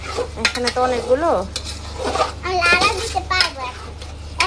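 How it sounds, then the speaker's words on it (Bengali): Raw rice for white pulao is stirred as it fries in a pot, with a steady sizzle and scraping of the spoon running under the chatter of a child and an adult talking. "চালটাকে এখন আমরা একটু ভেজে নিব"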